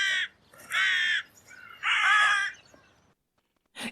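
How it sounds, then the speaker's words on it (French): Crows give harsh, loud caws: three drawn-out calls in an uneven rhythm, then a short final caw after a pause, close by and alone. "aperçut dans l'air 3 corneilles qui vinrent se poser devant lui."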